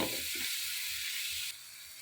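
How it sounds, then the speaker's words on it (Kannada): Chopped carrot fries in hot oil for green pea chitranna, a dense steady sizzle with a faint stir near the start that quiets abruptly partway through, close and soft, no talk. "ಅದು ಸ್ವಲ್ಪ ಎಣ್ಣೆಲೆ ಆಗಲಿ ಹಾಗೆ ಫ್ರೈ ಆಗಲಿ"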